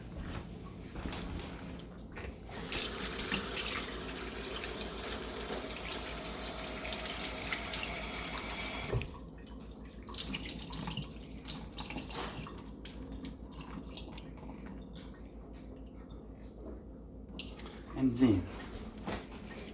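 Scallops are rinsed under a running kitchen tap, a continuous splashing water stream with drips and a brief pause midway, while a person talks over it.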